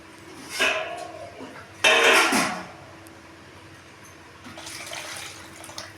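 Water poured from a small vessel into a cooking pot while making rava, in splashing bursts: a short pour, a louder sustained gush, then a softer trickle near the end, close and with no talk.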